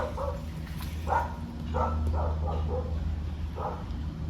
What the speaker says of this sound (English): That's not my dog, it's across the street.